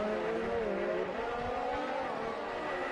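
Formula One car engine whining at high revs around the Australian Grand Prix track in F1 2019, a steady, fairly faint rising drone with shifting pitch.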